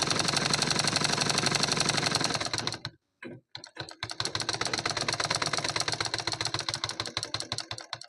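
A sewing machine stitching a cotton-lined blouse runs in a fast, even mechanical patter, stops for a moment with a few short bursts, then resumes its steady rapid stitching up close.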